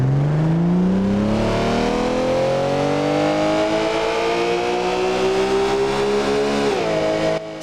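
Porsche GT3 RS engine revving at roughly half throttle, loud and close, its pitch climbing steadily in a long rising sweep before easing off near the end.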